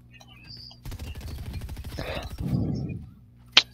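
Twin Mag submachine gun firing in Fortnite, a short burst of rapid shots under and between excited voices, followed by a single sharp crack near the end.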